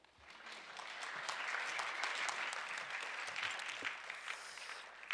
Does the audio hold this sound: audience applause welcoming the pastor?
yes